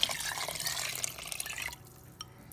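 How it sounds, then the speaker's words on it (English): Water pours into an Instant Pot for pinto beans with smoked turkey wings, a close splashing stream that runs for most of the moment, then stops, leaving a few faint drips. "So that's 6 cups of water and about 1 cup full of the chicken broth."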